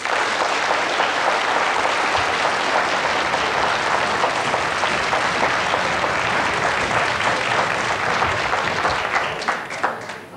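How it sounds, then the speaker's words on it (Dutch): A studio audience on a 1995 television show gives sustained, loud applause, a dense, even wall of clapping that holds steady throughout and eases off only at the very end. "Onno, een applaus."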